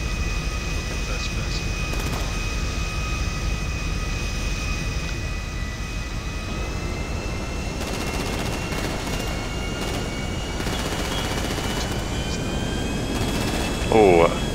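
Steady airplane engine drone fills the passenger cabin in Grand Theft Auto V, a continuous loud hum with a voice speaking over it at times.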